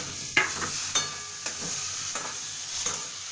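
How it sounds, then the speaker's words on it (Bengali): Tomato, green chillies, onion and garlic sizzle steadily in a pan while a utensil stirs them, scraping at intervals against the pan, with no talk. "এবার যতক্ষণ না টমেটোটা নরম হচ্ছে ততক্ষণ আমি আস্তে আস্তে করে নাড়াচাড়া করে টমেটোটাকে নরম করে নেব"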